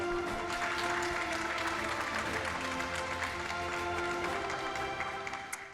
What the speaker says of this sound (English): Please give a big round of applause to founder and director of MIT Space Exploration